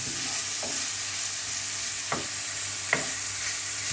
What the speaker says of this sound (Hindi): इसको दोबारा अच्छी तरह भून लेना ताकि काली मिर्च और नमक आपस में चिकन के साथ मिल जाए